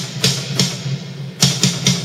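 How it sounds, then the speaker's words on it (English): A metal mix snare drum layers a dry hit with a long, deep Deep Verb reverb, several punchy strikes in a loose pattern each trailing a washy tail, played alone. "together the reverb snare and the dry snare sounds like this"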